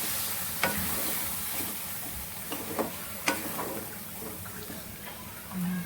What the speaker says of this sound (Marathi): आता आपण याला तेल सुटेपर्यंत चांगलं परतून घेऊया